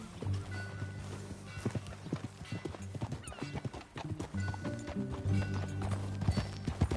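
Horse hooves clip-clop steadily while riding in the video game Red Dead Redemption 2, a continuous rhythmic trot at moderate volume, with an occasional whinny and faint background game sound.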